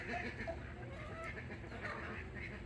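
Chickens at an animal rescue farm cluck steadily at close range, a continuous overlapping chatter of hens.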